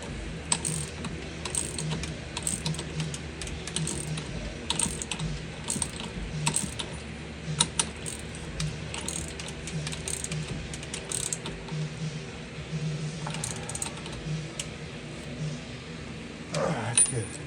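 A ratchet socket wrench works on a Jeep Wrangler steering wheel in close bursts of rapid clicking, with light metallic clinks and handling noise between them. Someone speaks at times over the work.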